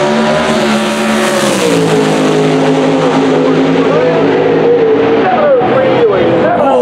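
Race car engines, including a supercharged Ford GT500 and a Chevy, roar and rev hard as they accelerate, a loud, continuous mechanical whine that climbs and shifts in pitch throughout.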